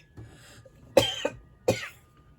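A person coughs three times close by, two sharp coughs in quick succession followed by a third after a short pause, over a faint background hum.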